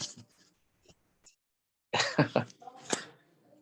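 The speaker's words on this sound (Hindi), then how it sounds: "बीच में जो आवाज आ जाती है खांसी वांसी की" A few faint short coughs early on, then a louder cluster of harsh, close coughs and throat clearing near the end.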